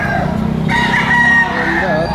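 A National Banded rooster crows once, loud and close, a drawn-out call heard alone over light background noise.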